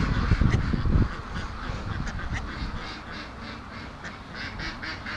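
Two small ducks quack with short repeated calls, clearest and loudest in the first second, then softer, more scattered quacks carry on amid background noise.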